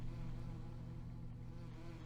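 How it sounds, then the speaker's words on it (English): A bee buzzes in the farming video game Farming Simulator 19, a steady faint drone with a low hum, continuous and unbroken, no voices. "Oh, that bee flew right into my face."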